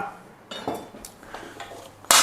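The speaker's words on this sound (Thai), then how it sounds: "เดี๋ยวเราจัดจานพร้อมทานกันครับ" Stir-fried soy sauce rice is plated onto dishes. Close clinks and scrapes of a utensil against plates come in a few short knocks, ending with one loud clatter.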